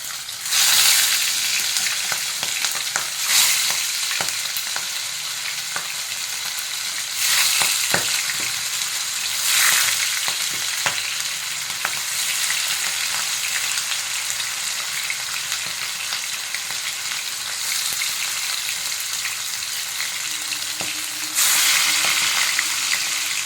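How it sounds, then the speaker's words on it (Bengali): Stingray pieces fry one by one in hot oil, a loud, steady sizzle running throughout with brief crackling spikes and occasional stirring, no voices. "মাছগুলোকে একটা একটা করে ভেজে নেব।"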